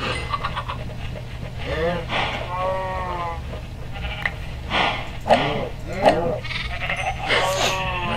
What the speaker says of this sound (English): looks like we fed all the cows, so we can kill a few cows off now